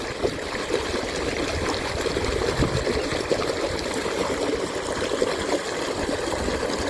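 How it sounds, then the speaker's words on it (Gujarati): Irrigation water flows steadily through a channel in a farm field, a constant near rushing and gurgling stream with no voices over it. "પાણી આવે છે"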